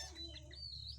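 Chicks give faint, high cheeping calls a few times against a steady low hum in the background, fairly distant and quiet.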